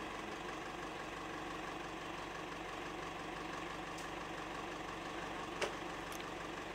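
A car engine idles steadily on a film set, a faint, even low rumble holding at constant pitch throughout, with a couple of brief sharp clicks near the end and no talking.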